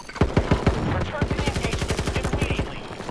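Rapid automatic gunfire in Battlefield 2042, a few loud opening shots followed by a long, steady burst of evenly spaced rounds, close and dominant, with a voice speaking briefly underneath.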